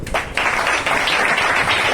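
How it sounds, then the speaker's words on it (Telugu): Church congregation clapping together in a hall, a steady dense patter of many hands that starts abruptly and continues at an even level. "ఇప్పుడు కొట్టు చప్పట్లు"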